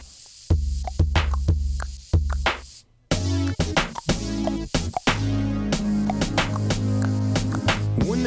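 A DJ-version hip hop track intro plays, punchy drum hits and deep bass in a steady groove that thickens into a fuller beat halfway through, loud and without vocals.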